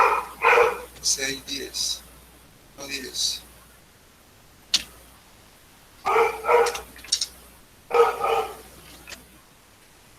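A dog barks in several loud bursts of sharp, repeated barks with pauses between them, fairly close, while a person speaks briefly in between.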